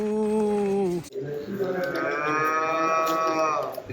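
Parmigiano Reggiano dairy cows moo near and loud, one long low call breaking off, then another drawn-out rising moo holding for a couple of seconds.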